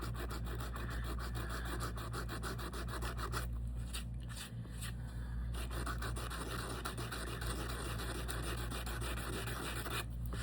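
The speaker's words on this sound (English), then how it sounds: "I gotta sand this down so it's even" Continuous rhythmic sanding rasps across a cast piece still sitting in its mold, evening out the surface with quick back-and-forth strokes, close up and steady, with a brief pause partway through and no talking.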